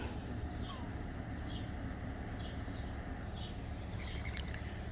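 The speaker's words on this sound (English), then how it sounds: "I'm sorry, I gotta get rid of this bird." Faint, repeated bird chirps over a constant low rumble of background noise, the calls coming every second or so at a distance.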